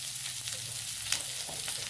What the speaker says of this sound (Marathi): कांदे व मिरचीची स्लाइस चांगल्या प्रकारे मिक्स करायचे आहे.